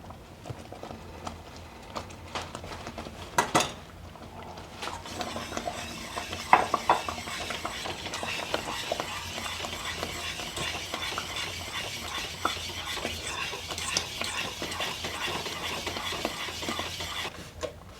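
Lemon meringue pie filling stirred quickly in a pot, continuous quick scraping and tapping of a utensil against the pot bottom, close and moderately quiet, with a few louder knocks.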